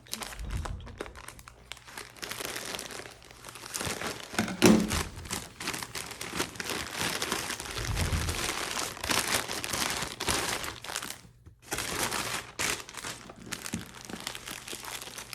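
Plastic packaging crinkles and crunches steadily as a MillHill craft kit is unpacked, dense rustling handled close up with small bumps and pauses, no talking.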